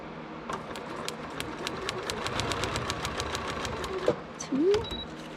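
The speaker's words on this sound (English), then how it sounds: "So I can sew this on." A sewing machine stitches a paper-pieced miniature quilt block in a rapid, steady mechanical patter up close, and a person speaks briefly partway through.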